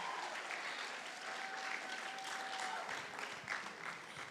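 Sustained applause from a seated audience at a secondary school graduation ceremony, a steady dense wash of clapping heard from within the hall with no break.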